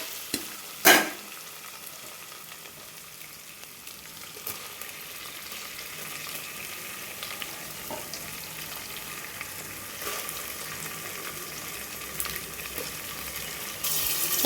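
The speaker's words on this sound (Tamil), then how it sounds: "அடுத்த வந்து வெங்காயத்தை போட்டுக்கலாம்." Onions fry for mutton biryani with a steady, moderate sizzle, marked by a sharp clatter near the start and occasional stirring scrapes.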